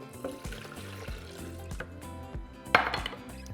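Water pours into a blender cup already holding garlic cloves, tomato sauce and salt, a soft gurgling stream with scattered clinks and a brief louder splash near the end.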